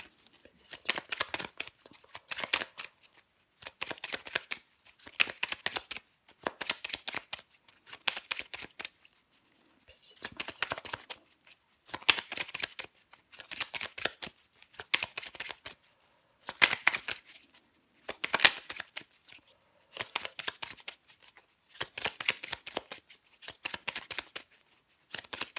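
Tarot cards are shuffled again and again close to the microphone, each pass a short riffling burst, repeating in an even rhythm with brief pauses between them.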